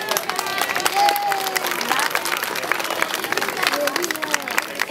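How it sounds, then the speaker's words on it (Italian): An audience at the NeroNorcia 2014 festival in Norcia, Italy claps in dense, steady applause throughout, with a few voices and cheers mixed into the crowd noise. "facciamogli un applauso."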